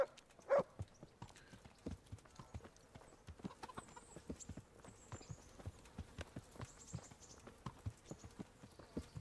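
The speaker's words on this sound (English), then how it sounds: "Why does this horse walk so slowly?" A horse walking slowly in Kingdom Come: Deliverance, hooves clip-clopping in a steady, even rhythm of distinct close thuds, continuing throughout with faint ambient background.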